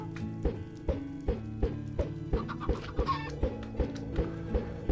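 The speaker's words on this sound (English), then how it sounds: "Time to summon chickens." Chickens clucking in Minecraft, a rapid series of short, evenly spaced clucks over steady background music, with a brief higher squawk partway through.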